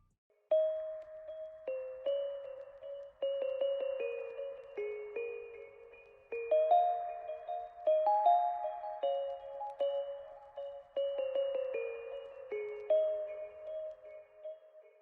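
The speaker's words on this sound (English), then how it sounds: "For the second layer I just decided to use some more bells, they seem to fit pretty well." Layered bell tones in a beat, left raw without effects, ringing in repeated melodic phrases with clear attacks and decaying tails against a silent background.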